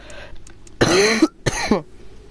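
Two harsh, close coughs from one person, a short pause between them, standing out against a quiet background.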